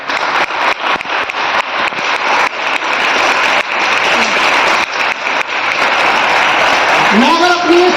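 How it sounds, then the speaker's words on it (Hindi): Loud, dense clapping from a seated audience at an anniversary celebration, steady and close for several seconds, with a voice cutting in near the end. "उन सबके लिए एक बार जोरदार ताली बजाइए"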